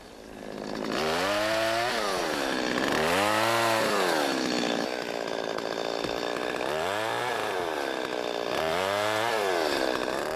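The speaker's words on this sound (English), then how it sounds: "the roar of power tools has long replaced the beat of axes" A chainsaw fells a tree in a forest, its engine loud and close, revving up and down in repeated surges over a steady idle.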